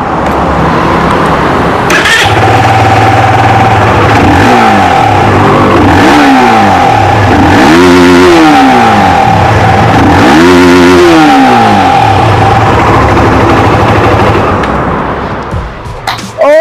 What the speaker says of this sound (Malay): Dan ini pula bunyi Modenas Z15 GT, anak kesayangan rakyat Malaysia sekarang ni